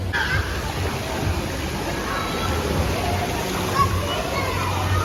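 Water churns and splashes continuously in a spa bubble bath where a child is swimming, with a voice and other people talking in the background.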